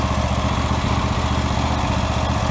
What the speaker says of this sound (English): But I did the valve cover gasket on the lawnmower. It's running, it works great.